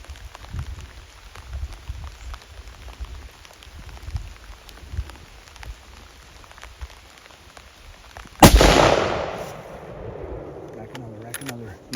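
A single sharp rifle shot during a Pennsylvania bull elk hunt, loud and close, ringing out after a stretch of quiet woodland ambience and fading in a long echo.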